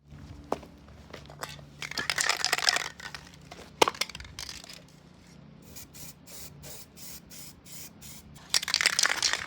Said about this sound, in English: I just paint this one and spray paint from the inside on that so it doesn't rust